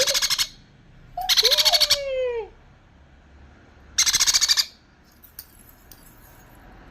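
Pet bird giving loud, close electronic-sounding trills like a phone ringtone, three bursts with a whistled falling note between them, followed by faint clicks.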